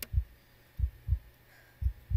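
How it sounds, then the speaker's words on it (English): A low, thudding heartbeat throbs in a horror video game, with paired beats repeating at a steady slow rhythm over a faint hum, and no talking. "That heartbeat right now, even though it's the game"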